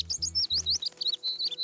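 A cartoon baby bird chirps in rapid, high, tweeting bursts, bright and close, over a brief low tone at the start.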